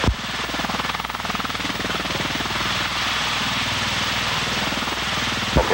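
A V-22 Osprey tiltrotor hovers low on its first flight in 1989, its rotors giving a loud, steady, throbbing beat with engine roar, continuous throughout and without talk.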